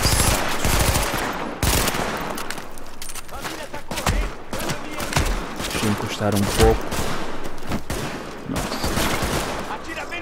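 Gunfire in the video game Tom Clancy's The Division, bursts of automatic and single shots in rapid volleys over the game's action, with players talking in Portuguese at times.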